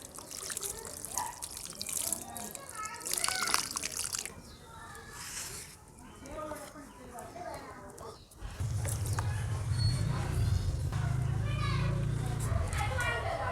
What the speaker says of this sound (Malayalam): ഫ്രണ്ട്സ്, നമുക്ക് നനച്ച് കൊടുക്കാം കേട്ടോ നന്നായിട്ട്